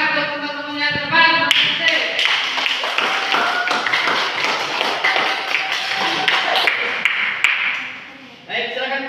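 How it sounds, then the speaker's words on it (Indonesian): Classroom applause for classmates presenting at the front of a civics lesson, a dense run of clapping filling several seconds with scattered taps and thuds, with voices before and after. "tepuk tangan untuk teman-teman yang depan"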